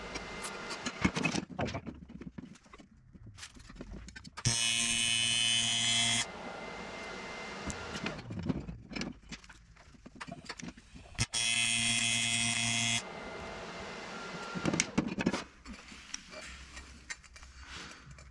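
Weld beads are laid with a torch in two separate bursts, each a steady buzzing hum of about two seconds, with clattering handling noises before, between and after.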